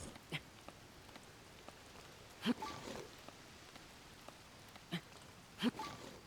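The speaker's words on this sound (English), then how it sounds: "Oh my god, is it really gonna start raining?" Rain falls in the video game Zelda: Tears of the Kingdom as a soft, steady patter with scattered drop clicks, faint and close, while a few brief louder taps stand out against the quiet backdrop.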